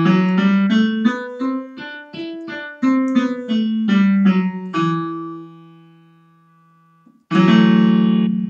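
A piano plays a descending E natural minor scale, one clear note after another at a steady pace. The last note rings out and fades, then a loud chord sounds.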